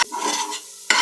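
Fresh coconut burfi mixture stirred in a pan, a short scraping swish with faint sizzling, brief and close.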